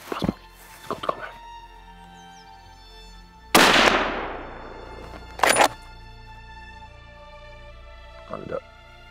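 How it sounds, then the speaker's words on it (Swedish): A rifle shot rings out during a beaver hunt beside water in a wild outdoor setting: one sharp, loud crack with a long decaying tail, framed by a few quieter knocks and thuds before and after. "Pass på. Skott kommer."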